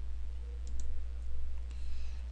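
A computer mouse gives a couple of quick, faint clicks close by, set against a steady low hum.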